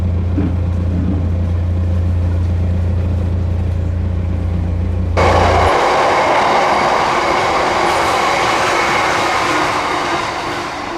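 A train rumbles steadily past a narrow canal mooring, its heavy low drone giving way midway to a louder, brighter rush of wheels and carriages close by, continuous throughout with no talk.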